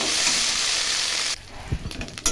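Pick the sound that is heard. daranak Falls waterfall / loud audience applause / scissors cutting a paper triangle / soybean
soybean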